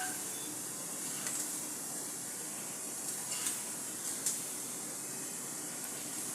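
Ginger strips sautéing in a pan for a Durga Ashtami festival dish, giving a steady broadband sizzle throughout with a few brief brighter crackles, no voices.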